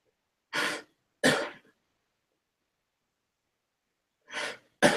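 Several sharp coughs in short bursts, two close together, a long pause, then two more, close by with silence between.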